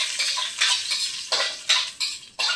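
Garlic sautéing in cooking oil for chicken tinola, with a steady sizzle and a few metallic scrapes and clanks as a utensil stirs the pan, close and fairly loud.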